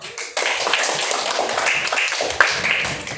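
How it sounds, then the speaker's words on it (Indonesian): A classroom of children bursts into a dense patter of hand clapping that runs steadily for a few seconds, fairly close and without talk. "Tepuk tangan, duduk."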